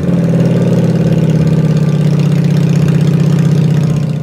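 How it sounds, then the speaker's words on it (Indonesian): Harley motorcycle engine idling steadily up close, a loud continuous low rumble with a pulsing beat that holds even throughout. "Ini adalah motor Harley."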